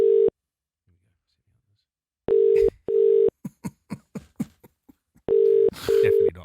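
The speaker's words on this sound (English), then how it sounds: "Phone him up." Telephone line tones sound over a speakerphone: long steady beeps separated by silence, a quick series of short dialing pips, then more beeps, with voices briefly in between.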